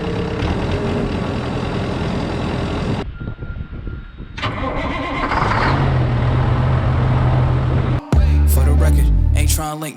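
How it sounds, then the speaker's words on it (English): A 308 excavator's diesel engine cranks and catches in snowy conditions, then settles into a loud, rumbling idle close by, with a brief cut near the end before the engine noise resumes strongly. "we're gonna clear some snow first with the 308 excavator"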